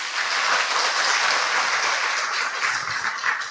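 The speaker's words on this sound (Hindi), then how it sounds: "ताली तो बजाइए।" A large audience at a spiritual talk breaks into dense, even applause that holds loud and steady throughout.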